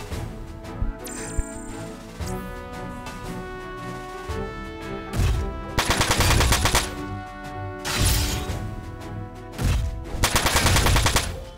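Machine gun fire in the PS2 video game Front Mission 4, several loud, rapid bursts of rattling shots over a steady droning game soundtrack, each burst lasting about a second.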